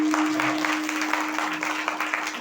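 An audience claps together at a Marathi spiritual discourse on the Sadguru, a steady patter of applause with a faint tonal hum underneath, easing off slightly toward the end.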